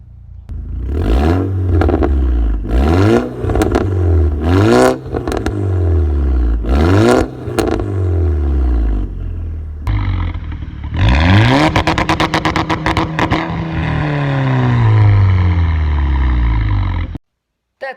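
A VW MK6 turbo car with its muffler deleted, engine revved several times in a row with loud rising and falling exhaust blasts, then a longer sustained high rev with crackling before it cuts off, close and without talk.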